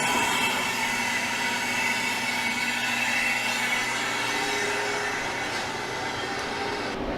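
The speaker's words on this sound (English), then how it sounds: "I'll open the drain valve." A freeze dryer's drain valve opens and releases its vacuum in a steady, loud rushing hiss that holds evenly for about seven seconds and tapers slightly near the end, with no talking.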